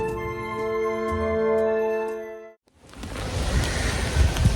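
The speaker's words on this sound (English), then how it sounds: "It's raining very, very hard in Oxford" Heavy rain pours down in Oxford's Botanic Gardens as a dense, loud, steady hiss that follows a sustained musical tone, which cuts off abruptly.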